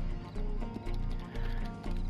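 A horse in the video game Red Dead Online whinnies over a steady clatter of hooves, loud and close, the neigh rising briefly above a dense, continuous game soundscape.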